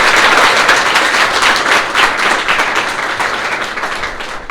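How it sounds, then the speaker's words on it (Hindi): A crowd at a ceremony honoring government school students claps steadily and loudly throughout, dense and continuous applause that eases off slightly toward the end. "इन सब के लिए जोरदार तालियों के साथ इनका स्वागत कीजिए आप।"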